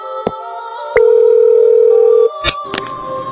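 Phone-call tone in the Mini World video game: a long, steady electronic beep lasting over a second, framed by short clicks and a brief burst of game sound.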